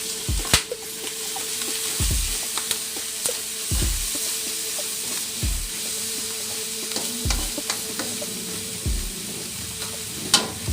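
Tomatoes fry with ground meat and chayote in a pan, a continuous close sizzle broken by regular thumps and scrapes of stirring every couple of seconds.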